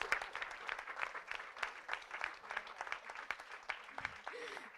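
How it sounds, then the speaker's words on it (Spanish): Steady applause from an audience at a book fair panel, a dense even patter of many hands that holds throughout at moderate distance, with faint murmured voices underneath. "solo para aplausos, 2 minutos de aplausos"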